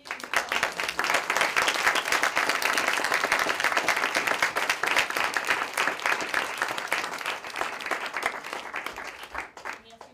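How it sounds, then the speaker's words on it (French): An audience in a well-filled conference room applauds the speakers with sustained, dense clapping that holds steady for several seconds and then thins out and fades near the end. "Je vous inviterai à remercier, à applaudir nos conférenciers."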